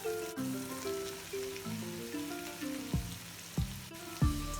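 Chopped bitter melon (karela) sizzling in a pan with soft frying potatoes, a steady crackling fry under a sustained musical melody, with a few louder clanks and thumps toward the end.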